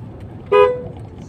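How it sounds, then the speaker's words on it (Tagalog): A single short vehicle horn blast in town traffic, aimed at tricycles, sounding loud and close over a low traffic rumble. "Businahan mo na lang talaga sila."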